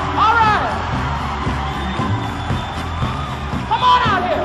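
A concert crowd cheering and clapping in a lively 1971 live show, a broad roar of whoops and applause, with music continuing underneath.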